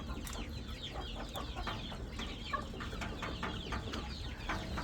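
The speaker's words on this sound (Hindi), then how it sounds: "ये दोस्तों माशाल्लाह मुर्गा चेक करें" An Aseel rooster clucks repeatedly in short, close, moderately loud bursts over a constant low background hum, with no talking.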